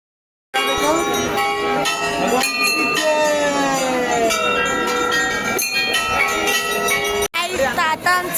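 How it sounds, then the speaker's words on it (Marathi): Temple bells ring repeatedly as a queue of devotees strike them one after another, overlapping metallic clangs with long ringing tails, loud and close, with a brief break near the end. "सगळीजण घंटी वाजवत आहे"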